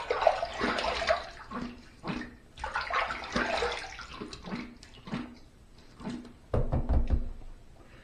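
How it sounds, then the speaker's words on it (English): Water from a tap gushes over an adjustable injector razor in repeated rinsing bursts, with short gaps, scattered knocks of the razor against the basin and a louder splash near the end. "First pass done, let's rinse."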